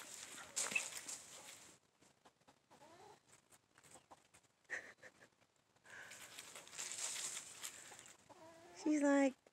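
Chickens cluck in scattered bursts, close by, with a louder squawk near the start and a flurry at the end, while people talk in between.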